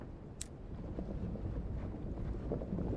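Thin, gusting wind rushes steadily through the open sky in the video game Sunless Skies, a low, constant airy roar with faint swells and no voices.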